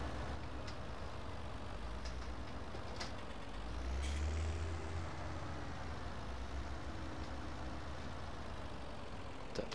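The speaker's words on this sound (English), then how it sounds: "I forgot to shut the engine off" A truck engine idles steadily throughout in Farming Simulator 17, a low continuous rumble with faint clicks and a brief swell in the middle, no voices.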